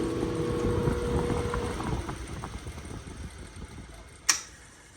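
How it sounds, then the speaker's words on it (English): An electric motor on a 2025 Carrera is switched off and winds down, a steady mechanical hum fading over about two seconds, followed by a sharp click near the end. "Let's also shut off the electric motor and hear the spin down."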